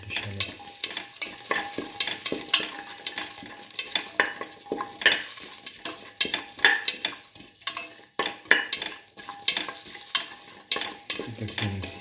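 Shallots sizzle in oil in a pan while a spoon stirs them, crackling frying noise broken by repeated scraping and clinking strokes in an uneven rhythm, close and clear with no voices.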